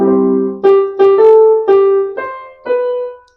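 A simple, slow melody of single piano notes from "Happy Birthday to You," about seven in a row, played clearly and alone with no accompaniment.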